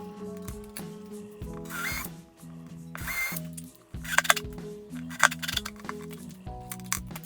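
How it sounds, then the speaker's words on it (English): A power drill whirs in several short bursts with brief pauses between, pre-drilling into a wooden storage chest, followed by a few sharp clicks and clatters, close and moderately loud. "I'm just going to pre-drill and place that in the center"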